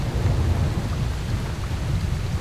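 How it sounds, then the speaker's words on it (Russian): Heavy downpour with thunder in the video game S.T.A.L.K.E.R., a dense steady roar of rain with deep low rumbling throughout, loud and continuous with no talking. "Да, дождичек, конечно, проливной оказался."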